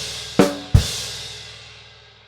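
Two sharp drum kit hits played as bar 25 of a Grade 3 piece, a quick pair of strikes with a crash ringing out and fading afterward, close and alone.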